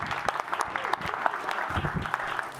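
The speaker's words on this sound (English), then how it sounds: "applause for that gentleman as well." An audience at a Windows cloud and AI keynote event gives a gentleman on stage a round of applause, a mid-level burst of scattered, steady clapping throughout with faint crowd noise.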